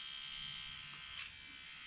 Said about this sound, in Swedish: sen är det ju då en sån näs- och öronapparat som jag faktiskt testade